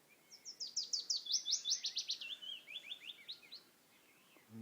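In woodland, a thrush-like songbird delivers a rapid run of sharp, bright trilled notes followed by a slower sequence of whistled phrases, soft and somewhat distant, with no voices.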